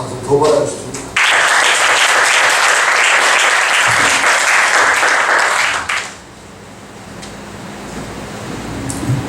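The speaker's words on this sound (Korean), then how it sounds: "박수를 한 번 더 우리 하나님께 영광을 박수 더 받아주십니다." A church congregation bursts into loud, dense applause during a worship service, a sustained wash of clapping that holds for several seconds and then fades out abruptly, leaving quieter room sound.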